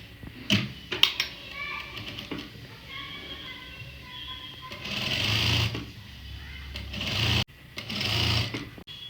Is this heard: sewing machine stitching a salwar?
yes